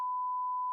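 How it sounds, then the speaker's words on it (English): A single censor beep: one steady, clean pure tone that holds unbroken for just under a second, loud and alone with no talk. "it's gonna be beep beep beep beep beep"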